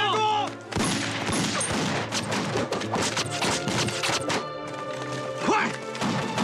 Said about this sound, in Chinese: 突然就开枪了！